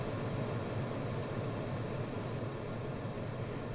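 A steady, quiet wash of even hiss, like a digital noise floor, holding constant throughout with no other sound.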